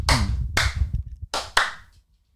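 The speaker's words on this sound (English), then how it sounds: "1, 2, 3, clap, clap." Four sharp hand claps in an uneven pattern, close and loud, with a low murmur of a voice between the first ones on a podcast.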